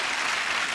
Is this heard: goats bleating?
no